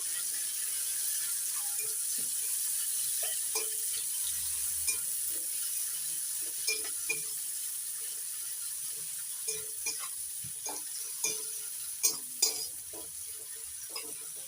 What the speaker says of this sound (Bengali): পেঁয়াজ কুচি নাড়াচাড়া করে একটু লাল করে ভেজে নেব